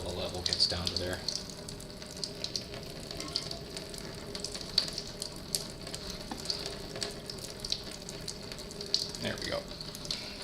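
Coolant drains from a Suzuki V-Strom 1000 motorcycle into a pan as a steady trickling, splashing flow with small irregular drips, with a brief spoken remark near the start.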